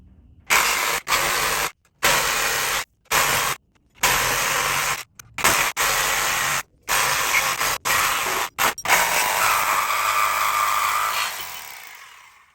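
A power tool cuts out the bump stops during a 7.5-inch coilover lift install, starting and stopping in about a dozen loud, choppy bursts before settling into one longer continuous cut that fades away.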